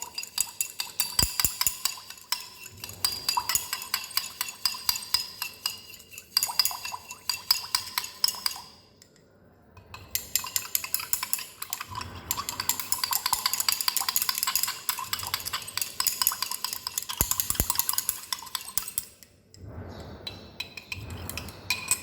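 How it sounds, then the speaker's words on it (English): A utensil stirs syrup into a clear liquid while preparing piperazine citrate elixir, with continuous bright clinking and scraping against glass, pausing briefly twice, quiet and close with no talk. "Now we will mix it."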